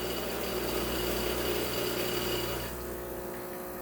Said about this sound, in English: let's make an espresso and find out